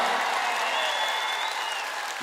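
An audience claps in steady, dense applause for Saida Rametova, honoured as a People's Artist of Uzbekistan, at a live show; the clapping is loud and close and fills the whole stretch.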